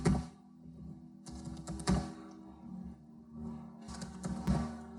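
Coordinates being typed on a computer keyboard, with quiet bursts of rapid key clicks separated by short pauses, close and faint in a still room.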